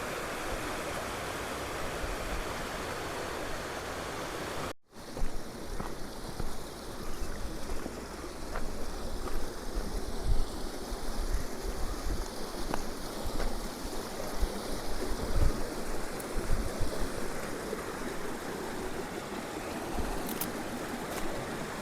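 A mountain stream in the landslide-hit Chooralmala and Mundakkai area of Wayanad, Kerala, rushes steadily close by, a continuous broad roar of flowing water after a brief cut near the start.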